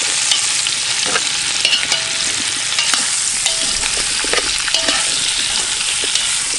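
Vegetables with rosemary frying in oil in a Bedourie camp oven, a dense steady sizzle with scattered scraping and clinking stirring sounds, close and without talk.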